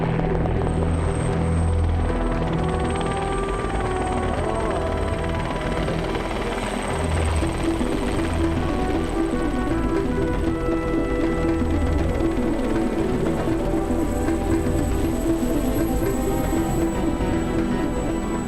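Chamonix mountain rescue helicopter in flight, a loud, steady rotor and turbine roar with rhythmic blade chop sustained throughout, close by and alone without voices.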